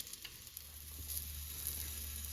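Vegan meat substitute browning in a hot pan, a quiet, steady sizzle and faint crackle with a low background hum, heard without talk.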